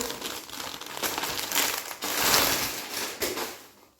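A Meesho parcel being unboxed, its plastic packaging crinkling and crackling in close, loud bursts of handling and tearing, with no speech.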